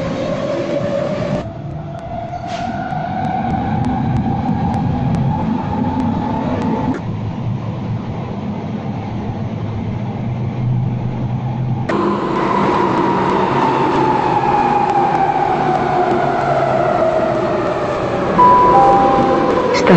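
An Athens metro train runs on Line 3 and Line 2, a steady loud rumble with rising and falling motor whine, rail clatter and a brake squeal heard from inside the car.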